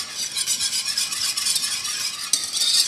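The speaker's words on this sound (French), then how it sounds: "Maintenant, je fouette" Quick, steady whisking of a lemon, honey and olive oil mousse mixture in a pan over low heat, a continuous bright scraping swish close up with no talking.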